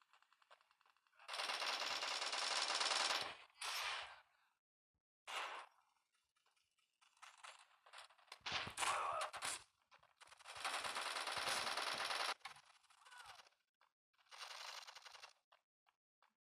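Bursts of automatic gunfire and sniper shots in the Bullet Force shooter game, loud rapid rattling volleys separated by short silences and scattered single cracks.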